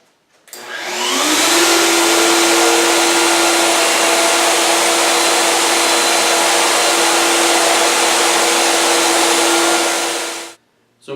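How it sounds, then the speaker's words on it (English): A woodworking router fitted with a collar and an upcut spiral bit hogs out a mortise in wood, a loud, steady high-pitched whine that spins up, holds for about nine seconds close by, then cuts off. "I've got a collar and an upcut spiral bit, and we're just going to hog out the material."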